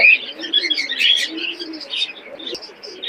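Omani Teddy pigeon chicks call in a busy pigeon market in Khulna, giving high, thin cheeping peeps in quick irregular bursts close to the listener, with one sharp click partway through.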